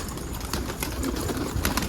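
A loose pigeon takes to the air with bursts of wing flapping over steady outdoor background noise, close and fairly loud, with no talking.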